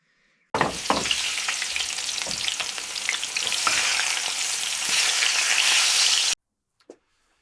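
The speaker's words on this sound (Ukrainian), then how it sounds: "Зараз буду смажити рибу" Loud, continuous sizzling and spitting of fish frying in a hot pan, steady for several seconds before cutting off abruptly.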